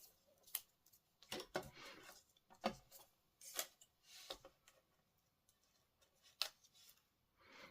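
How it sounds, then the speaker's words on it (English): Scissors snipping a strip of about six inches for a handmade greeting card, a string of short, crisp cuts with small pauses between them, close and fairly quiet. "So I'm going to maybe cut about 6 inches and attach it with some tear and tape on the back."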